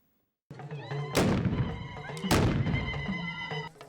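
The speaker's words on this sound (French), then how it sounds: "Des coups de canon pour annoncer la sortie du roi le dimanche de Tenkodogo." Two booming ceremonial cannon blasts about a second apart in Tenkodogo, announcing the king's Sunday outing, each a sharp crack followed by a long rolling decay, with faint voices beneath.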